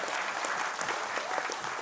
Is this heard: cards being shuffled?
no